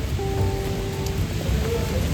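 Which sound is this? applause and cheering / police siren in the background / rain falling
rain falling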